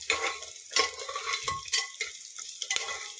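Something is stirred and dry-roasted in a pan until brown, giving close, intermittent scraping strokes with a faint sizzle between them.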